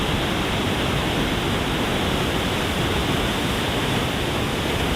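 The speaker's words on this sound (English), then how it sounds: "Made it down here to the waterfall at Haley Creek" A waterfall at Haley Creek in Alaska, running high and turbid, gives a steady, dense roar of falling water that stays loud and unbroken throughout.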